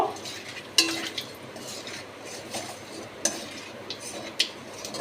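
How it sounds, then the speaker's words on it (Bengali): Nigella seeds stirred in hot oil in a pan, a soft sizzle under several sharp clinks and scrapes of a spoon against metal at irregular intervals, close by. "কালো জিরে দিয়ে খুব ভালো করে একটু নাড়াচাড়া করব।"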